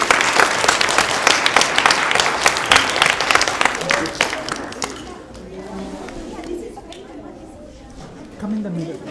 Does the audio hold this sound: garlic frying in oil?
no